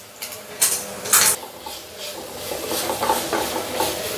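Onion, ginger and garlic frying in a pan, a steady soft sizzle and hiss with a few sharp clinks and scrapes of a spoon stirring, close by and moderately loud.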